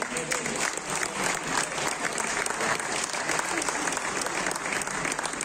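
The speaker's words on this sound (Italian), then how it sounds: "fategli un applauso" A festival crowd applauds a blues band at the Lucca Blues Festival, a thick sustained roar of clapping held at an even level, with some crowd murmur mixed in.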